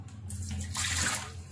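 Water pours and splashes out of an Enagic Kangen alkaline water ionizer as it is emptied during cleaning, a steady rushing flow that swells midway and then eases, close and fairly loud with no talking.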